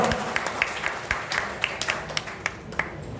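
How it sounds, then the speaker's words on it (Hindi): Audience at a Parcham Party political gathering clapping to welcome a new member, a thin scattering of distinct hand claps at an irregular rhythm over a faint background hum, fairly quiet and with no voices. "मैं चाहूंगा आपसे कि जोरदार तालियों के साथ इनका इस्तकबाल किया जाए"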